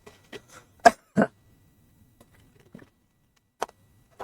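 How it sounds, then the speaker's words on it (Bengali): A lecturer on international affairs coughs and clears his throat in a few short, separate bursts, heard close and alone with quiet gaps between them. "আমার একটু কাশি আছে, একটু পানি খেয়ে নিচ্ছি।"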